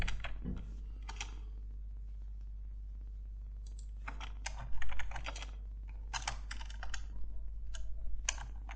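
Quick bursts of typing on a computer keyboard while writing code, crisp clustered key clicks separated by short pauses, close and fairly quiet over a steady low hum, with no talking.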